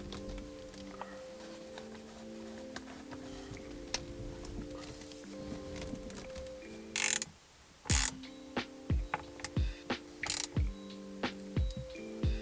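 Small screws being tightened in an Audi A4 B8 steering wheel with a ratcheting tool, a series of quiet clicking ratchet strokes in short irregular bursts, close up with no talking.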